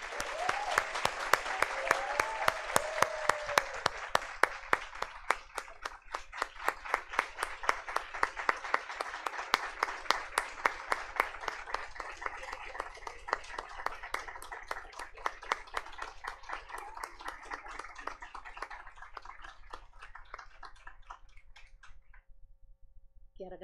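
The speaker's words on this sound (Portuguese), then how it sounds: "Uma salva de palmas para essa." Sustained audience applause at an international education forum, starting as dense clapping with voices briefly audible, then thinning into slower, more rhythmic claps that gradually die away toward the end.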